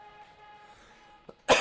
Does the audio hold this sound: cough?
yes